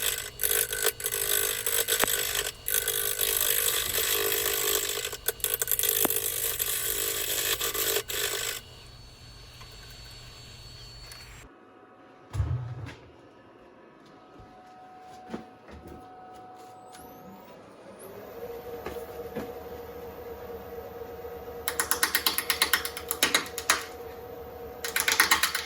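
A beech burl hollow form spins on a wood lathe while a tool takes off high spots and starts shaping the tenon. Loud, steady broadband cutting noise runs for several seconds, then quieter, broken scraping follows, and strong cutting returns near the end.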